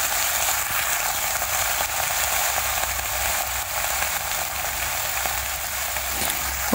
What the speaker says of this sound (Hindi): देखिए, सारा सब्जी मैं डाल दूँगी इसी में।